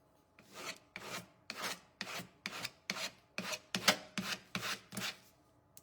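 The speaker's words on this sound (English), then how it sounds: "let's get our scraper. And let's do a little scraping" A scraper rasps across a surface in about a dozen steady, rhythmic strokes, each a loud close scrape swelling and fading, with no voices.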